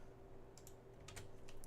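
Keys pressed on a computer keyboard give a few faint, sharp clicks in a short irregular cluster over a low steady hum, with no voices.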